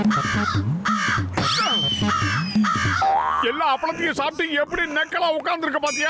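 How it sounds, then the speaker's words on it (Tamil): A crow caws several times in harsh, drawn-out calls close by in a Tamil-dubbed cartoon, then a person speaks over the fading bird sounds. "காக்கா கத்துற சத்தம் கேக்குது."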